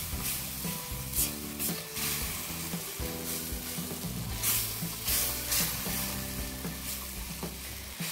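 Chili paste with salt, sugar and palm sugar is stir-fried in a pan, giving a steady close sizzle with repeated scraping and stirring strokes throughout, with no talking.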